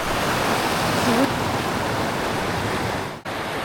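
The Swift River in New Hampshire, cold and clear with ice along the bank, gives a steady broadband rush of flowing water, close and constant throughout, with one brief dip near the end.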